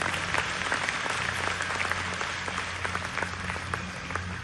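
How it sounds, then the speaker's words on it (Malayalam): An audience claps together in a big round of applause for family, a dense and steady patter that lasts the whole stretch with no one speaking over it. "നമ്മളെല്ലാവരും ഒരുമിച്ച് നമ്മളുടെ ഫാമിലിന് വേണ്ടി ഒരു വലിയൊരു കയ്യടി കൊടുക്കുക"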